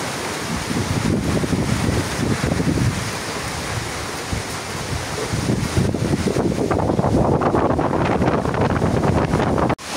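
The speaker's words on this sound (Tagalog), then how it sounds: "Lakas na po ang hangin." Strong, roaring typhoon wind buffets the microphone continuously, with gusts swelling louder in the second half before cutting off abruptly.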